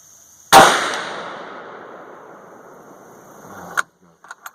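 A single loud, close .450 Bushmaster rifle shot fired with a 240-grain XTP handload cracks sharply and then rolls into a long fading echo, followed by a few faint metallic clicks.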